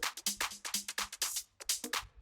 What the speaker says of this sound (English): a primal tap where I've automated dry wet to have these delay fills, which sound like this